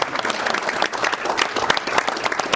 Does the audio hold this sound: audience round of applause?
yes